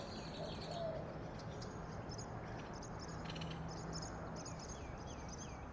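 Birds chirping in a tree, faint repeated high tweets and short calls scattered over a constant outdoor background hiss.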